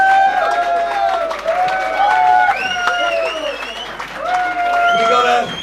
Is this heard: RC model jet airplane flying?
no